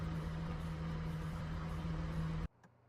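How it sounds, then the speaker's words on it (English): A steady low engine drone from a car in the iRacing sim racing game, with a strong constant hum that cuts off abruptly near the end and no voices. "Is the car broken, or is that how iRacing sounds?"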